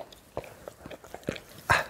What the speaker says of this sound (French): avant de me faire attaquer par mon petit chien